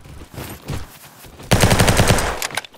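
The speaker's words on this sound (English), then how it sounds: "Got my Tommy gun." A Tommy gun firing in a multiplayer shooter video game, a loud close burst of rapid automatic shots after some quieter game sounds, with no talk over it.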